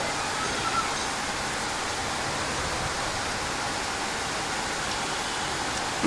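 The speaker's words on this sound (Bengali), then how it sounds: "চমৎকার বৃষ্টি হচ্ছে। দেখুন কি বৃষ্টি হচ্ছে, অনেক বৃষ্টি হচ্ছে ঢাকাতে।" Heavy rain pouring down in Dhaka, a dense, uniform hiss of rainfall on surfaces that holds steady and loud throughout, with no talk.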